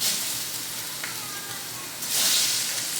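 Onions sizzling in a hot pan while short ribs are prepared, a steady broadband hiss that swells louder near the end, with faint voice traces beneath.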